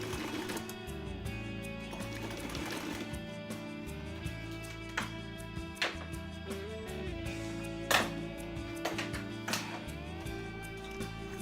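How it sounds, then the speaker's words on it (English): A sewing machine stitches nylon webbing onto the back of a Velcro strip to stiffen the roll-top closure of a reusable trash bag. It runs steadily with a dense mechanical whir and rhythmic needle clatter, and a few sharper clicks break in throughout. "It gets sewn to the back side of one of the strips of Velcro."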